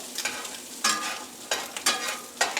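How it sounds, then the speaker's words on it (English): Butter sizzles and crackles in a cast iron pan, a steady close frying hiss broken by several sharper bursts of spatter. "I'm going to put some butter around it"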